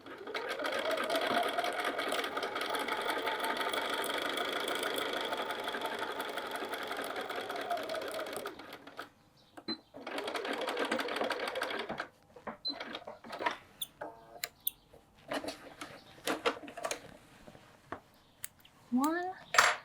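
A sewing machine back tacks across a bag pocket in a loud, continuous whirring run that pauses and restarts briefly, followed by scattered clicks and handling noises, close to the listener.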